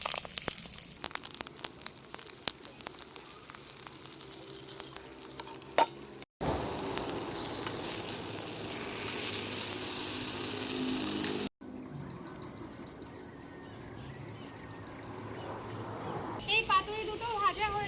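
Small-fish paturi wrapped in thankuni leaves fries in a pan with continuous close sizzling, interrupted by brief cuts, while a person talks; rhythmic chirping bursts appear later, likely birds in the background.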